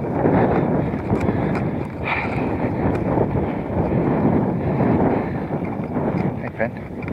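Strong wind buffeting the microphone outdoors at a campsite in Galloway, a continuous loud rushing roar with a few faint knocks, while people talk briefly.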